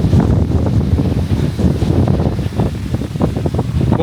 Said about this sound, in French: il y a vraiment beaucoup de vent là